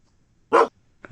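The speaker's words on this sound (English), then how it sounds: "This appears to be a puppy sound." A single short puppy yelp, a bright burst lasting about a fifth of a second, followed by the start of a second faint yelp, all against silence.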